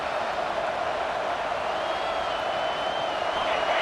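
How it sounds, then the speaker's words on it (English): A football stadium crowd roars at a Georgia game, a dense, steady wall of cheering that sounds broad and sustained, with no clear individual voices. "This crowd, full throat, splitting the eardrums and letting them know it's going to be a long day."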